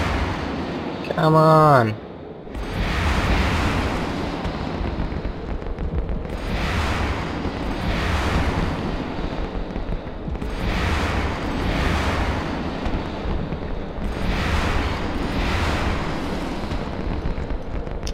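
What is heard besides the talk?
spaceship weapons firing in EVE Online video game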